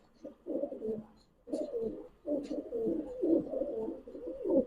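Several highflyer pigeons coo close by in low, throaty, rolling phrases that overlap and repeat, with a couple of brief pauses and no talking.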